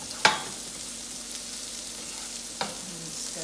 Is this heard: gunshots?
no